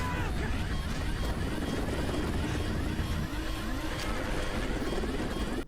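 Helicopter flying in an action film scene, a dense continuous rotor roar mixed with music and effects, loud and steady throughout with faint voices underneath.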